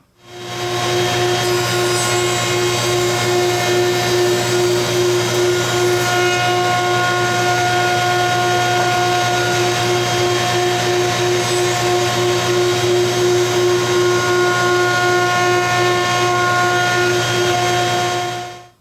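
A power saw runs steadily for nearly twenty seconds, cutting a slot in a scrap wooden board with a loud, sustained whine that holds a constant pitch from start to finish.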